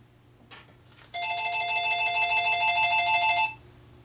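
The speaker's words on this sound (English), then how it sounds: "Are you guys ready to hear the phones ring and see this thing flash?" A telephone ringing during a test of a Wheelock PS-15A TelStrobe ring-signalling strobe, heard as one loud electronic warbling ring lasting about two seconds after two brief faint clicks, with no talk.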